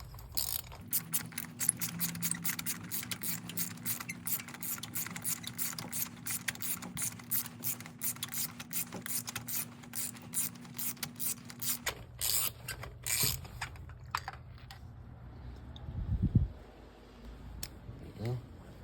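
A ratchet removes spark plugs from a Mazda Miata engine with long runs of rapid, close clicking over a faint steady hum, then sparser clicks and a brief handling noise near the end.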